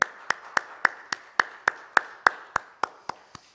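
A church congregation at a Wednesday worship service claps together in a steady, even rhythm, about a dozen sharp claps in close unison with no talking.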